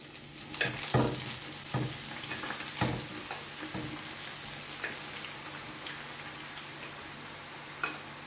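Salt-rinsed eggplant hits a pan of hot oil just emptied of golden garlic, giving a close, steady sizzle broken by loud stirring knocks and spatters, with no voices.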